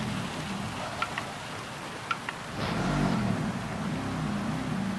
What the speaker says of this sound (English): I will drive slowly around the track, show you what I use for braking markers in the rain compared to the dry